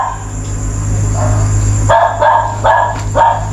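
At night in a cemetery a dog gives about four quick barks in a row in the second half, moderately close, over a constant low drone.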